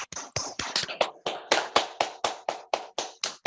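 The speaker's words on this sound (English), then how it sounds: "Clap for your children" Parents at a storytelling event clap for their children, a crisp run of about fifteen separate claps in a quick, fairly even rhythm, close and moderately loud.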